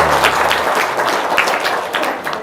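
A live audience at a comedy-style show breaks into applause, a loud, dense wash of many hands clapping together throughout, with no voices standing out.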